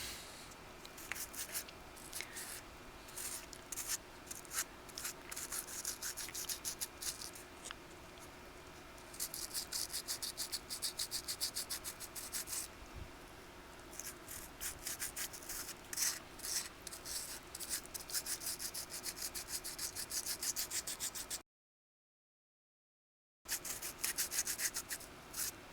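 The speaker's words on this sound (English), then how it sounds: "Okay, it's sanded." Sandpaper rubs a bike inner tube, still on the bike, to prepare it for a patch. It makes soft, scratchy strokes in long uneven runs, close and faint, with a brief silent gap near the end and no talking.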